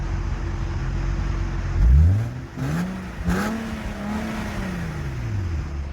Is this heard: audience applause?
no